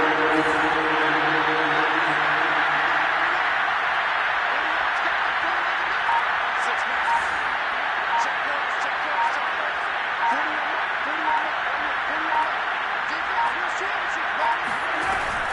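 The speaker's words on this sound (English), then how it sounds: "The crowd getting into it as we come up on a big 3rd down." A football stadium crowd builds into a steady, roaring wall of noise ahead of a big third down, continuous and dense throughout, with a commentator talking over it.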